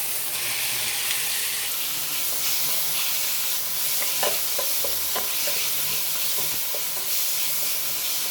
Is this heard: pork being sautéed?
yes